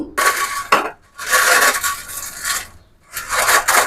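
Crumbled fried sev being stirred through a puffed-rice murmura masala mixture in a bowl gives close, dry rustling and scraping in three bursts separated by brief pauses, with no talk.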